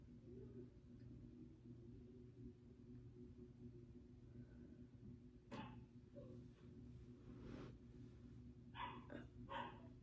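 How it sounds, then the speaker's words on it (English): A dog barks indoors in a quiet room, with a single sharp bark midway and then a quick cluster of faint, distant barks near the end over a low steady hum. "It just got really silent, and then you just hear Phoenix barking"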